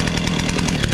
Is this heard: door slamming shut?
no